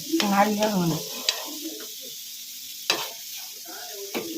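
Powdered jaggery is stirred with ripe banana in a pan, with a few soft scrapes and a faint sizzle spread through a quiet stretch, after a short burst of voice at the start.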